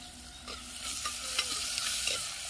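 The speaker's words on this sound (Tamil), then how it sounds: "இந்த வெங்காயத்தை இப்போ நல்லா கிளறி விடணும்." Onions with curry leaves are stirred in a pan, a few quick scraping strokes over a low continuous sizzle, close and moderately quiet with no talking.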